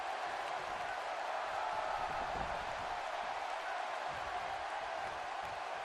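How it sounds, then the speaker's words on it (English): Steady crowd roar from a WWE 2K19 wrestling video game arena, a faint, even wash of cheering that holds without pauses throughout. "It's astonishing that the WWE Universe is back on their feet and cheering Daniel Bryan right now"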